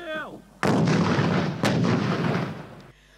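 An American M72 anti-tank grenade launcher fires with two sharp, heavy blasts about a second apart, each followed by a rumbling tail that fades out, heard close.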